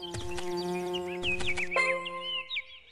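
A cartoon bee buzzes as it gathers nectar, with a steady droning tone under bright, chirpy musical sounds, fairly close and continuous across the clip.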